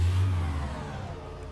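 Peugeot 206 CC convertible engine revving as it pulls away in the City Car Driving simulator, a steady mid-pitched engine drone that fades slightly, with no talk over it.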